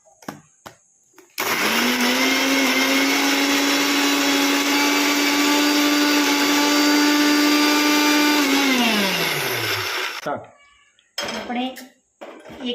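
An electric kitchen mixer grinds ginger and green chili into paste, a loud steady whirring drone running about nine seconds and then winding down, framed by brief clinks of the jar and lid.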